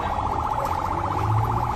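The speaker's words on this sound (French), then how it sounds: "prenons une ambulance médicalisée." An ambulance siren warbles in a fast, steady rise-and-fall cycle, fairly loud and continuous for a brief moment.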